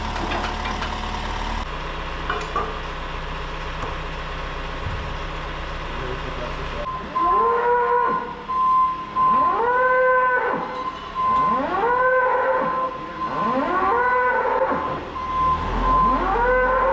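Dairy cows moo repeatedly inside a barn holding dry cows close to calving, the loud calls coming one after another over a low engine-like hum, with some talk early on.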